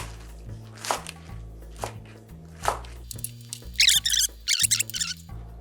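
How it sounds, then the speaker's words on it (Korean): Green onions for kimchi are chopped with a knife on a cutting board in a few quick rhythmic strokes, under a low, steady hum. "이렇게 해서 파를 썰어 넣어줍니다."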